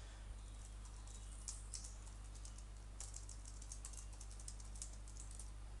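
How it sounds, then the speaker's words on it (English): Fingers type on a computer keyboard in quiet, irregular bursts of clicks over a low steady hum, with no voice. "I'm just going to type something here"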